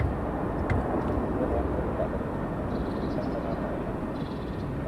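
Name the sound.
fighter jet on final approach at RAF Lakenheath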